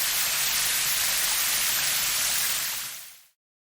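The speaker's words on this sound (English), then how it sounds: "Heavy rain and flooding expected." Heavy rain pours down as a dense, loud, continuous roaring hiss that holds steady, then quickly fades out near the end.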